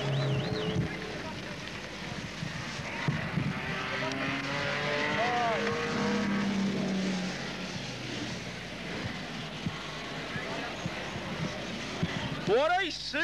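Rover race car at a racing circuit, an engine roar passing at a distance with rising and falling pitch, moderately loud beneath an excited commentator talking throughout.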